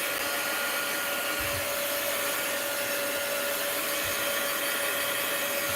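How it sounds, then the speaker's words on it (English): A heat gun drying walnut ink on fabric makes a continuous, even blowing hiss with a steady whine, loud and close throughout, with a couple of faint low knocks underneath. "You'll see as I'm drying it with my heat gun that it does dry lighter."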